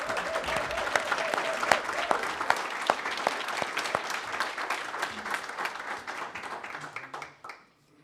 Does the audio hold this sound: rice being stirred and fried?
no